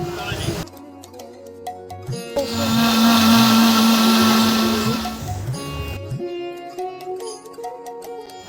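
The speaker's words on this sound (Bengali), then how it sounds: "এরপরে আমগুলোকে ব্লেন্ডার দিয়ে এর সাথে প্রয়োজন মতো ধনেপাতা, লেবু পাতা, কাঁচামরিচ দিয়ে সুন্দর করে ব্লেন্ড করে নিলাম" A blender whirs loudly for about three seconds, blending green mangoes with coriander, lime leaves and green chilies into a raw mango drink, with music playing before and after.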